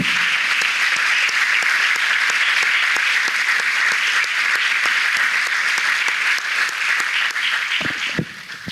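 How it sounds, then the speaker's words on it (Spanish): A church congregation breaks into loud, steady applause, many hands clapping close by in a continuous wash that tapers off near the end. "Un aplauso"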